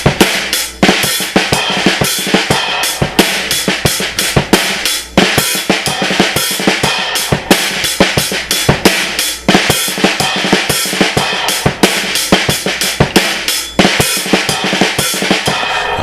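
Snare drum rudiments in 13/8 odd meter: fast, loud flamaque sticking with drags and ruffs, a dense continuous stream of sharp strokes with accents, played alone and close.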